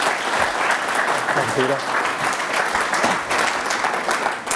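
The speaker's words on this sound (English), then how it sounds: "Please give a round of applause" An audience at a talk breaks into loud, dense applause for a speaker with a doctorate, sustained through the whole moment while someone briefly speaks over it.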